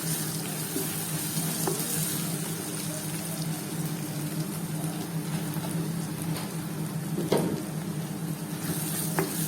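Tomatoes sizzle steadily in a pan of crab masala, a close, continuous frying hiss with a few soft stirring clicks and spatters.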